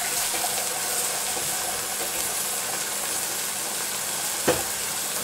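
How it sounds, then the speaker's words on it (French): Scallop and morel blanquette cooking in a pan while a wooden spoon stirs it, giving a steady close sizzle and bubble with faint scraping and one brief clack near the end; no voices. "Je vais remuer un petit peu avec une cuillère en bois pour bien homogénéiser ma cuisson."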